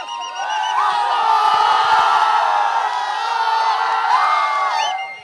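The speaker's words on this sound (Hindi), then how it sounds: "देख यहां से अभी चिल्लाएंगे लोग बाग" A large audience at a Bollywood music launch event cheering, whooping and shouting together in a loud, sustained roar that swells and holds for several seconds before easing off.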